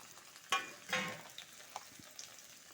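Potatoes and tomatoes added to frying onion paste in a pan, giving a couple of sudden bursts of sizzle and scraping as they drop in, then a quieter crackle with small stirring knocks, close up, no voices.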